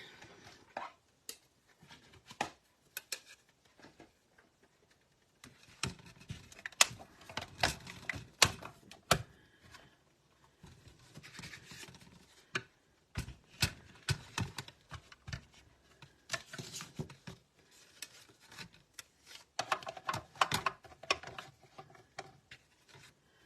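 A die-cutting machine presses dies through card stock, heard as a long series of close clicking, ratcheting taps in uneven bursts with short pauses, fairly quiet overall and without speech.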